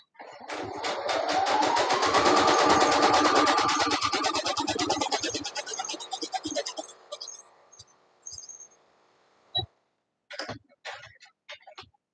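A sewing machine stitching Halloween costume fabric runs in a fast, buzzing rattle for about six seconds, close and loud, then trails off into a few short clicks and handling knocks.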